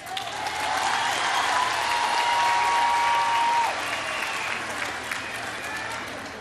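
A large audience at a Women's Day celebration applauds in a sustained, dense burst of clapping that swells and then eases, with a few faint whistles above it.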